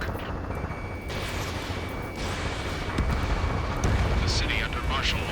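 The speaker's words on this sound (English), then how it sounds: "The city under martial law, gunfire and the roar of jets echoing through the streets." Gunfire and jet roar over a city under martial law in Ace Combat 7, a continuous loud rumbling wash with scattered explosive cracks and bursts, overlaid by a talking voice.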